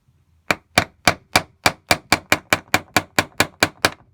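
About fourteen sharp hammer strikes in a steady, even rhythm, close and loud, with brief quiet between each blow.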